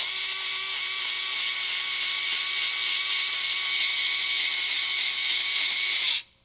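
A power driver runs screws into the plastic parts of an Axial Capra RC crawler while overdrive is fitted. Its high, steady whine holds close and unbroken for about six seconds, then cuts off.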